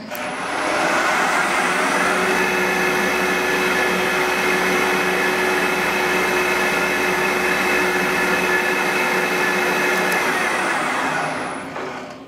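A CNC mill cuts a notch into a custom center skid plate for a crawler build, a loud, continuous whining machine drone that stays steady for about eleven seconds before spinning down, with no talking.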